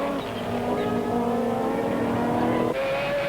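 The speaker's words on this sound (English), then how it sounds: "Just listen to that glorious sounding 4-rotor Mazda engine." A 1994 Wesbank Modifieds race car with a 4-rotor Mazda engine at Killarney howls at sustained high revs, holding a smooth, rising whine with an abrupt gear change near the end, loud and close.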